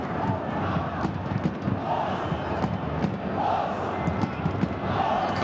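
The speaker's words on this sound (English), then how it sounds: "Crowd like it, they're chanting his name at the moment." At an AFC Champions League group match between Shanghai SIPG and Urawa Red Diamonds, a stadium football crowd chants a player's name in repeated rhythmic waves over a constant roar, heard from a distance.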